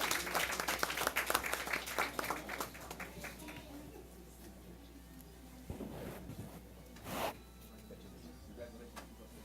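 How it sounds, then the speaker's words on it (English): Audience applause at a school district board meeting, a busy patter of clapping for the first few seconds that thins out and fades, followed by quieter room noise and a few brief shuffling sounds. "So let's give them another big round of applause."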